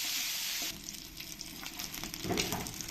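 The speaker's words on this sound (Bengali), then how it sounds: "এবার আমি এই বান মাছগুলো একটু ভেজে নেব" Pieces of ban (eel) fish frying in hot oil in a pan give a close, steady sizzle throughout, with soft stirring and scraping noises on top.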